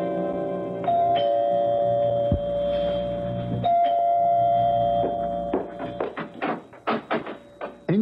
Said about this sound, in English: You can ring the doorbell.